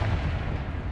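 A Confringo fire spell fired in the Hogwarts Legacy video game lands as a single short, loud, booming blast with a low rumbling burst.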